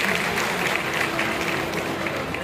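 Crowd applause at the Zilla Samman 2025 award ceremony in Durgapur, a continuous even patter of many hands clapping together, fairly loud and sustained across the moment without pause.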